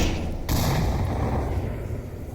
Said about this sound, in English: Matthew's gonna die to his own grenade